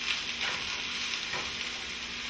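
Garlic frying in a pan for vegan fajitas gives off a steady, close, hissing sizzle with faint stirring scrapes, constant and unbroken throughout.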